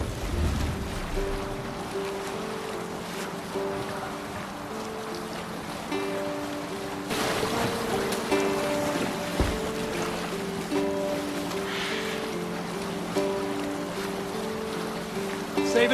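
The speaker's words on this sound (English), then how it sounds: "We need to row our way out. Sail out!" A Viking longship at sea in Assassin's Creed Valhalla: wind, rushing water and waves wash steadily against the hull, fairly quiet and even, with a faint melodic tone and a brief louder surge partway through.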